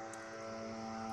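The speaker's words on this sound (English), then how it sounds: "it's a lawnmower" A lawnmower engine drones steadily outside, a faint, distant, even hum with a constant pitch that carries through the whole brief moment with no talk over it.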